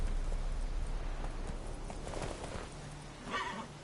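Roach the horse gallops in The Witcher 3, with steady rhythmic hoofbeats and clip-clop close by, plus a brief whinny-like burst near the end.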